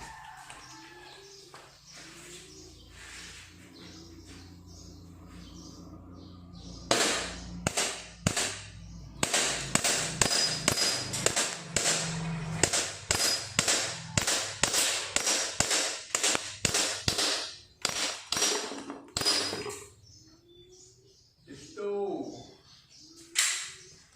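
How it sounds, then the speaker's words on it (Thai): A BB gun fires repeatedly at glass bottles from three metres, a long run of sharp, close cracks and pops in quick succession with breaking glass, after a quieter stretch at the start with a voice speaking. "เรามาลองยิงกัน เป็นระยะสามเมตรนะสามเมตร"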